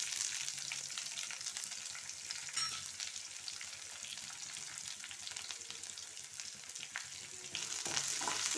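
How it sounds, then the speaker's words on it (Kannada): Chopped medium-sized onion frying in a pan of hot oil with curry leaves for pumpkin sabzi, a steady close sizzle with occasional stirring scrapes and no voices. "ಇದು ಚೆನ್ನಾಗಿ ಗೋಲ್ಡನ್ ಬ್ರೌನ್ ಆಗುವವರೆಗೂ ನಾವು ಫ್ರೈ ಮಾಡ್ಕೊಳ್ಬೇಕು ಫ್ರೆಂಡ್ಸ್."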